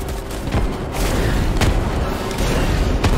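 Rocket launcher fire and artillery explosions in the Starship Troopers: Extermination video game, a dense continuous rumble of booms with a few sharper blasts standing out, loud and unbroken throughout.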